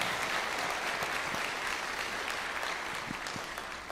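A church congregation applauds God, a dense, steady wash of clapping that holds for several seconds at a fairly distant, even level, with no talk over it.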